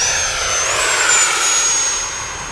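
A radio-controlled YAK-130 model jet flies in the dawn air, its steady turbine whine rising slightly in pitch as it passes, continuous and fairly loud throughout with no talk.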